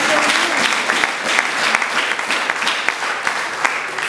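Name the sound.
congregation applause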